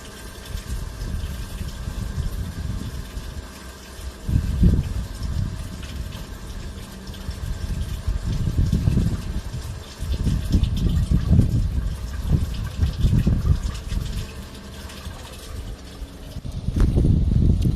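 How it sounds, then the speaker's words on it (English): Gray waste water drains steadily from an RV tank in a low, rumbling gush, with surging bursts and gurgles rising and falling over a constant mechanical hum. "you can hear that water coming out"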